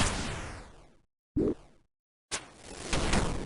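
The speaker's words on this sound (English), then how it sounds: "He has a magic attack that looks and sounds like this." Jad's magic attack in Old School RuneScape: a loud whooshing burst that fades, then a short punchy thump after a silent gap, and after another pause a second broad rushing swell that grows louder toward the end.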